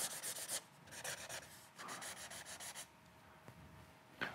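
Marker strokes drawing several lines on a board, in a series of broad rubbing, rasping bursts with short pauses between them, fairly close and with no talking.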